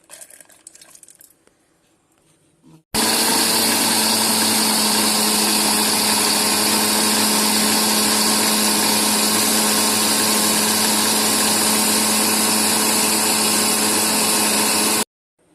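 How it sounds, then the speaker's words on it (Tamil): A mixer grinder grinds soaked toor dal, chana dal, raw rice and green chillies, starting abruptly after a quiet moment and running as a loud, steady whirring drone for about twelve seconds before cutting off. "இந்த பச்சை மிளகாய், இந்த பருப்பு ஊற வச்சோமே துவரம் பருப்பு, கடலைப்பருப்பு, பச்சரிசி, இதை எல்லாத்தையும் நம்ம மிக்சியில் அரைச்சிட்டு வந்துடுவோம்"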